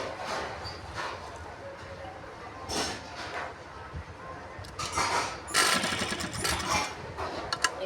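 A sewing machine stitching a folded binding strip onto a t-shirt neckline runs in short bursts of whirring stitches, pausing between runs, with soft background noise.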